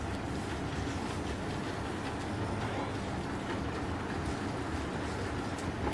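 Model trains run on a layout, a GG1 and a B&O F7 locomotive pulling lighted passenger cars, giving a faint, continuous rolling rumble with soft clickety-clack and no talk.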